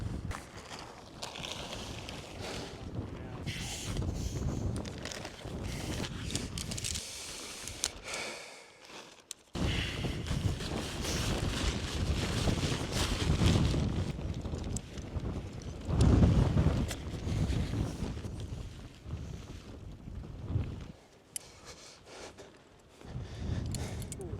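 Wind buffets the microphone in a steady rushing roar during a wild camp tent setup in the Brecon Beacons, with gusts rising and falling and a brief lull near the middle.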